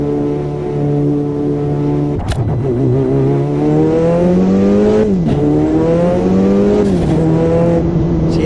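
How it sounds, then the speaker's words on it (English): An Audi 90 Quattro GTO in the Automobilista 2 racing game revs hard with a steady engine drone, its turbo whistling and whooshing over repeated gear shifts, loud and continuous. "See how the turbo has that whipping now?"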